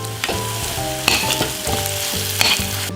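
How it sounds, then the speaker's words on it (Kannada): Garlic chili paste sizzling in a hot pan after browned onions, with loud continuous frying hiss and a few sharp stirring scrapes and clinks, no voices. "ಇವಾಗ ಬೆಳ್ಳುಳ್ಳಿ ಖಾರನ ಹಾಕೋಣ"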